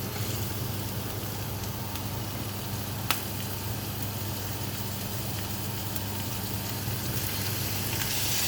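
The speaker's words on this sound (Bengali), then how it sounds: "এখন হচ্ছে আমি পেঁয়াজ দিয়ে দিব।" Onions fry in olive oil in a heated wok, giving an even, continuous hiss of moderate loudness with one sharp tap partway through.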